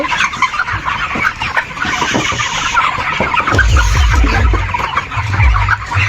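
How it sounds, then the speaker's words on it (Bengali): A flock of around three thousand broiler chickens clucks and squawks on a poultry farm, a dense, continuous chorus of many birds close by with no talking. "সবগুলো মুরগি দেখাবো তিন হাজার মুরগি"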